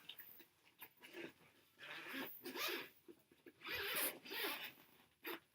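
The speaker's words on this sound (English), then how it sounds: "For this one, this big pocket here, just unzip that all the way around." The zipper on the big pocket of a saxophone case is drawn open all the way around in several short, close, quiet rasping pulls with brief gaps between them.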